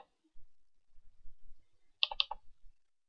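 A computer mouse double-clicked twice in quick succession, crisp and close, with a faint low voice murmuring beforehand.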